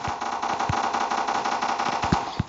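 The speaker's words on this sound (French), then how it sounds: "Mais pourquoi je tire dans le vide comme ça?" Rapid automatic gunfire from the Minecraft-style shooter Block Strike rattles out in close, loud bursts with a steady rhythm, and no voice is heard.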